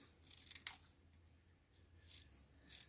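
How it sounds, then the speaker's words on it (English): Favorite scissors snip through paper while cutting out printed words, giving a few soft, close, crisp cuts with a sharp snip near the start and quieter rustling afterward, no voices. "used my favorite scissors, cut them out."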